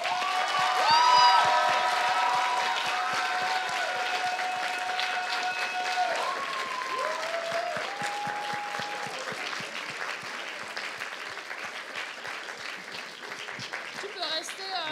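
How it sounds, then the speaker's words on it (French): An audience at a cosplay contest awards ceremony claps steadily in a dense wash of applause, with a few whistles or cheers near the start, gradually tapering off. "je vous laisse applaudir Talia dans le rôle de Shiro"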